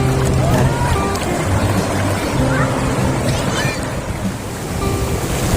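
Ocean waves wash and roll onto Patar Beach in Bolinao, Pangasinan, with wind buffeting the microphone; a steady low motor-like drone runs underneath.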